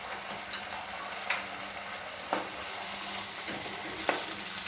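Tomato paste fries in a pan for an eggplant and potato curry, a steady close sizzle with a few soft scraping stirs, no voices.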